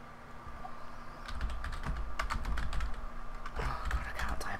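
Computer keyboard being typed on during a role-play game session: a quiet stretch, then rapid irregular clacking keystrokes in bursts, fairly close and steady for several seconds.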